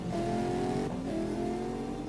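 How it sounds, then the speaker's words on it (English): Drift car engines revving steadily in CarX Drift Racing Online, a sustained loud engine drone with a brief dip and re-rev near the middle, no voices over it. "Both drivers warming up those engines, giving them a little bit of motor blood, as we call it, revving them up."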